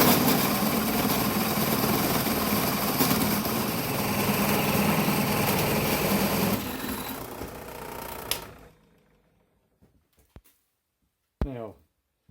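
A drill press bores slowly through wood with a paddle bit, making a steady, close mechanical whir that runs for about eight seconds, then cuts off into near silence broken by a few light clicks and knocks.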